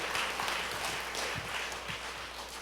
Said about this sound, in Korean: 와, 박수 한번 합시다.